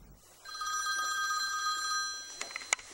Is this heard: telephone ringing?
yes